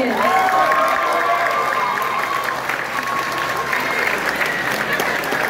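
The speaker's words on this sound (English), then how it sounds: "Let's give one big round of applause again for all of our contestants." Audience at an anime convention contest finale applauding, a dense, steady burst of clapping throughout, with a faint tone or voice rising over it early on.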